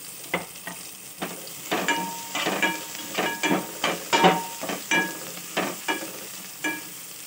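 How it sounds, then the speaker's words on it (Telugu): Ginger, garlic and kasuri methi frying in oil for dal khichdi, a soft steady sizzle broken by regular scraping strokes of a spatula in the pan, close and without talk. "ఇది కాస్త వేగిన తర్వాత మనం ఉల్లిపాయ ముక్కలు వేసుకుందాము."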